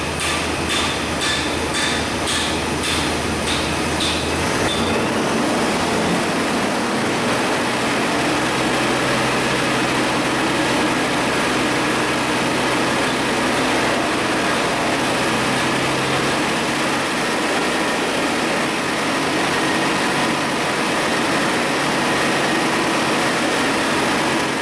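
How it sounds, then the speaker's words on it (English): A car engine with a vacuum leak and O2 sensor issues revs up to higher RPM and holds, a rising steady mechanical roar with ticking and clatter near the start, no talking. "So now what we'll do is we'll increase our RPMs."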